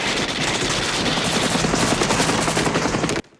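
Helicopters and bursts of gunfire from the 1985 action film Invasion USA: loud, rapid, continuous shooting over a throbbing rotor roar that cuts off abruptly just before the end.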